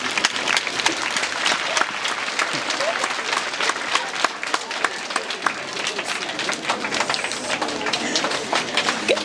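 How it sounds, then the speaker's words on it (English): Audience applause at a prizes and awards giving ceremony: a crowd claps steadily and densely throughout, loud and continuous, with voices mixed in. "Can we give him more rounds of applause?"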